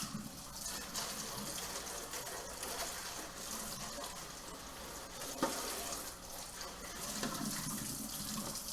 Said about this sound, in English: So let's rinse this out.